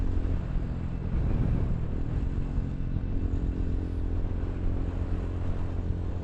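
Steady, loud engine drone of a single-cylinder Walmart motorbike being ridden, a continuous low rumble with wind noise that holds even throughout, no talking.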